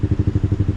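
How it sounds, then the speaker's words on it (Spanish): A Suzuki motorcycle fitted with an aftermarket exhaust idles close by, its low engine pulsing in a quick, even chugging rhythm of about ten beats per second. "para que vean cómo se escucha mi Suzuki"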